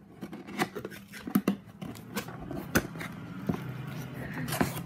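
Packaging on a printed cross-stitch kit from DIY Digital Art is pried open, with crisp scissor-like snips, crinkles and rustles in irregular bursts, close and fairly quiet.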